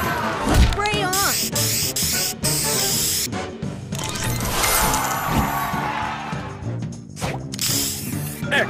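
Spray booster effect in a match-3 video game, a bright hissing spray burst amid crashing smashes and whooshing game effects, loud and busy, with a synthetic voice announcing game events over it.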